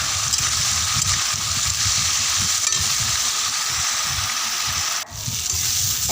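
Vegetables sauté in a pan until reddened, producing a steady, loud, close sizzling hiss with low stirring rumbles underneath and a brief dip near the end.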